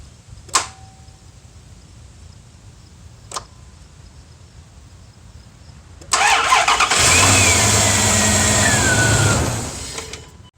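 Two short clicks, then a truck engine cranks and catches, roaring into a loud steady run for several seconds before easing off.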